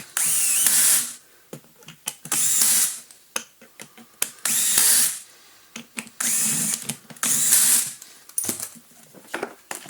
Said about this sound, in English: and do up the screws